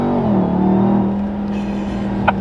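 Ram TRX pickup under hard acceleration, loud supercharger whine with a droning engine roar close to the supercharger, steady and sustained.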